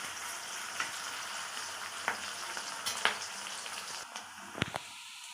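Onions frying in a pan make a faint, steady sizzle broken by a few light utensil taps and stirs.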